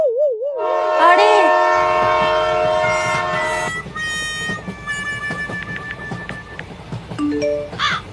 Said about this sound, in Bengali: দেখলে তো ট্রেনটা চলে গেল